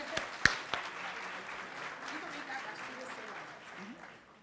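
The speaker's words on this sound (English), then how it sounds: "let's give her a round of applause" Applause from an audience at an award ceremony opens with a few sharp close claps and settles into steady moderate clapping that gradually fades, with faint voices toward the end.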